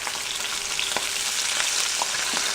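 Bacon sizzles steadily in a pan, four slices at a time, a dense close crackle and hiss with occasional sharper pops throughout, no voices.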